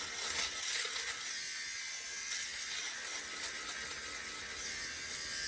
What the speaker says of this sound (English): So if you don't like the sweater shaver,